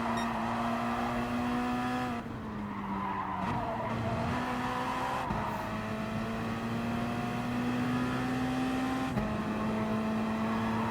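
Race cars in GT Sport Gr.3 battling at Blue Moon Infield A, a steady loud engine drone with gear-change pitch drops and tire squeal throughout, several cars close together with no talk.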